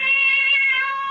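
A cat meows in a long, drawn-out, steady cry within a 1970s radio mystery drama, close and clear with no talk over it.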